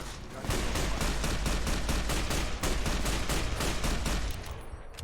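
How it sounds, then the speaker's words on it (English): Rapid automatic gunfire in Fallout: New Vegas rattles out as a fast, evenly spaced stream of loud shots for about four seconds before easing off. "I'm gonna keep shooting until I don't see movement."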